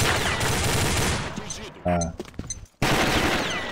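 Gunfire in the online shooter Combat Arms during a bomb-plant match, a dense rapid burst of shots that cuts out, then resumes, with a brief exclamation from a player between volleys.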